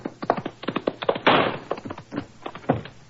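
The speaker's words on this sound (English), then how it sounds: "Good shot, Watson" A gunshot sound effect from a 1947 radio drama episode: one muffled, band-limited burst cuts through an old recording amid ongoing voices of the cast.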